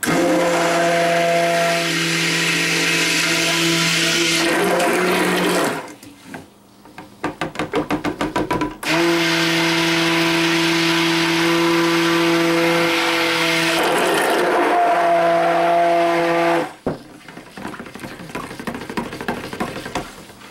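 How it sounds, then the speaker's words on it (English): Clay being mixed into hemp milk soap batter with an electric stick blender, whirring loudly in two long bursts separated by short pauses with light knocking and tapping. "So I'm going to mix in the clay first."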